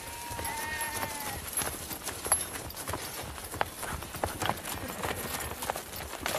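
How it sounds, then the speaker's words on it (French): Horses trot along carrying workers to a worksite in the morning, a steady stream of hoof clops over a busy outdoor background, with faint bleating-like animal calls near the start. "S'éveiller au trot des chevaux qui tous les matins ramènent les ouvriers au chantier."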